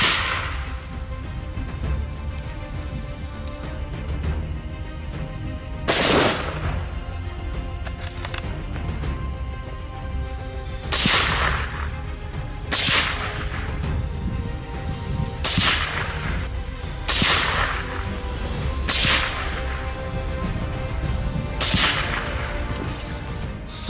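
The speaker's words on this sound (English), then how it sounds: "silenced .308 and .30 blackout rifles ensure a quick, humane knockdown with minimal disruption to surrounding wildlife" Suppressed .308 and .300 Blackout rifle shots fired at wild boars, heard as about nine sharp cracks spaced a second or two apart over a steady outdoor background.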